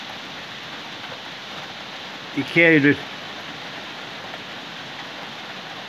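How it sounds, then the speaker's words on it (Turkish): Heavy rain falls on a village in Şalpazarı, Trabzon, a steady broadband hiss that runs throughout, with a brief spoken phrase in the middle. "Yağmur şiddetini artırarak devam ediyor."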